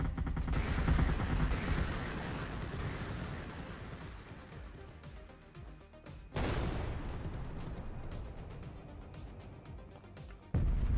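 A sniper turret and other guns fire in Artificial Extinction as loud, rapid bursts of gunfire. The shots thin out toward the middle, then a heavy blast at about six seconds brings a new dense volley.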